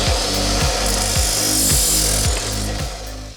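A wooden stair spindle is cut to length with a hand saw, giving about six rhythmic rasping strokes at a steady back-and-forth pace, close and loud with no talk.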